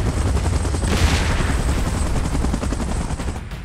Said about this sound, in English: Chopper in position.